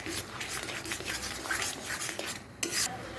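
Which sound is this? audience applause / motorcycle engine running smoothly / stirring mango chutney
stirring mango chutney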